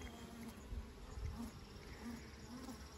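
A wild honey bee swarm caught in the woods buzzes as a steady, low, continuous drone, quiet and somewhat distant, with individual bees passing a little closer now and then.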